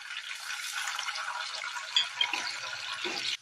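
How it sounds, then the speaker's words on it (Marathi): Salt water poured into hot oil where raw banana chips are frying, a steady hissing rush that stops sharply at the end. "आता आपण मिठाचं पाणी टाकून घेऊ।"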